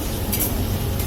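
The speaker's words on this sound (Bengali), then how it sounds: "দেখতে পাচ্ছি উচ্ছে ভাজা হচ্ছে, উচ্ছে ভাজা দেখতে পাচ্ছ, উচ্ছে ভাজা হচ্ছে" Bitter gourd frying in a pan, a continuous close sizzle with faint stirring scrapes through a brief moment.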